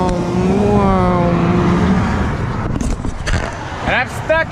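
Traffic on the Florida Turnpike streams past, a steady engine drone and tyre roar from passing cars, with a voice talking over it toward the end.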